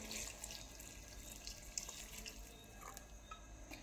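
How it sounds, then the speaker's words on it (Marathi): Hot water is poured into a pressure cooker holding a spicy goat head curry. A steady, close gushing runs for about four seconds with no talking. "आता यामध्ये गरम पाणीच घालून घ्यायचं,"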